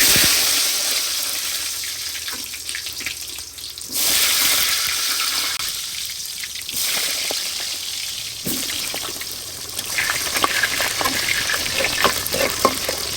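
Potatoes frying in hot oil in a home kitchen, a steady loud sizzle throughout with bursts of stronger crackling and some stirring or clattering near the end, no talking.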